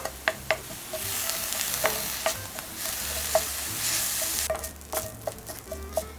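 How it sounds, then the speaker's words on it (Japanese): Green onions are stir-fried in a pan to mellow their sharpness for a tofu meatloaf, giving a steady sizzle with repeated light clicks and scrapes of the spatula. "ここでしっかりと炒めて辛みを飛ばしていきます。"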